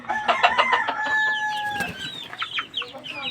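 Chickens and chicks in a coop, with close clucking, a rooster-like crow and high peeping calls overlapping, loud and busy, without clear talk.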